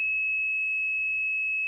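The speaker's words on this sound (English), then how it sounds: "It'll make that little beep sound, and then if you just keep going, when it finds a stud, it turns red" A stud finder gives one steady, high electronic beep that holds unbroken for nearly two seconds over a faint low hum, close and clear, as it detects a stud in a wall.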